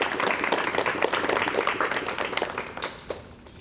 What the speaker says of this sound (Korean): 여러분 환영의 박수를 부탁드리겠습니다